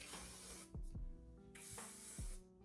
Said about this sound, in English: You know I like a finishing spray.